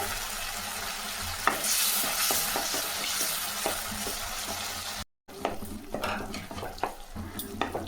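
Dried red chili and a sprig of curry leaves sizzle and crackle in hot oil for a Tamil-style water kurma, a steady loud frying hiss with sharp pops and stirring clicks, briefly cut off before the sizzle resumes.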